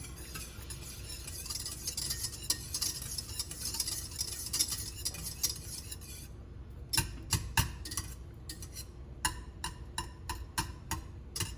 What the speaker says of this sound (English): You can break up the butter a little bit with your whisk. Help it melt a little bit faster.